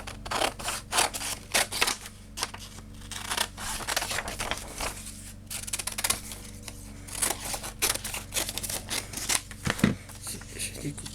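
Scissors snip hands out of magazine paper in a series of close, crisp cuts and rustles, irregular in rhythm, with someone talking over the cutting.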